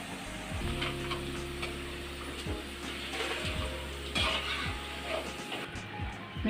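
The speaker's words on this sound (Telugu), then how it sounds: "అటు ఇటు తిప్పుకుంటూ ఇలా దోరగా వేయించుకున్నామండి." Onion pakoda frying in hot oil gives a steady, close crackling sizzle, with occasional soft ticks as the fritters are turned.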